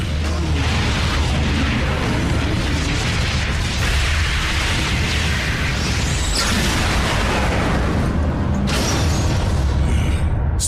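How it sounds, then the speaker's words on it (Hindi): An explosion on the space bridge in a Transformers Prime animated episode brings a loud, dense rumble of booms and bursts mixed with mechanical creaks, running continuously with sharp surges partway through. "स्पेस ब्रिज पर हुआ धमाका"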